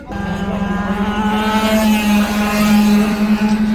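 A 1/4 scale RC truck or sprint car screams past at Boulder City Speedway, a loud, close, high-revving motor whine that holds steady with a slight rise in pitch and never drops away.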